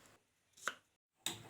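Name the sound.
chopping small onions (shallots) into small pieces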